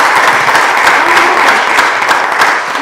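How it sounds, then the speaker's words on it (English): Steady applause from a crowd at a community coffee gathering, dense and continuous clapping holding at an even level for the whole stretch with no talking over it. "Let's give him a round of applause."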